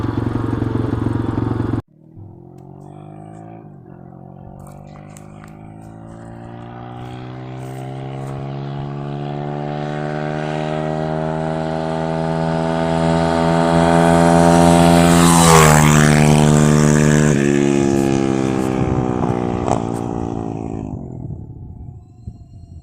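A TaoTao DBX1 140cc pit bike engine with stock gearing and a fake Mikuni carburetor winds up to top speed, a loud droning whine that climbs steadily in pitch, peaks, then drops as it eases off.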